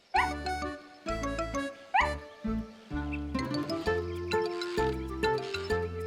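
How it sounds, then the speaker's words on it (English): A dog barks in quick, bright bursts over a cheerful musical backing, repeating every second or so. "She was wagging her tail and barking happily."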